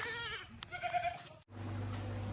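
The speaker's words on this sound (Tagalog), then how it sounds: "At ito yung mga kambing" Goats bleating at dusk on a farm beside a construction site, a few wavering calls in the first second and a half, fairly close, then steady low machinery-like hum.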